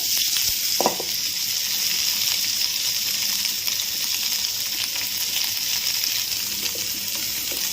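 Spicy tofu pieces fry in a pan with a steady, close sizzle throughout, broken by a few soft scraping knocks as they are turned over.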